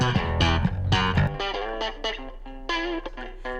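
Distorted electric guitars in a mix with a short reverb added, playing a brief chord riff with sustained tones and a slightly boxy, lo-fi character.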